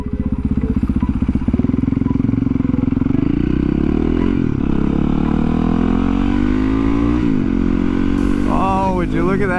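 A motorcycle engine drones loudly while riding on a sunny road, its pitch sliding down and back up with throttle changes, under steady rushing wind.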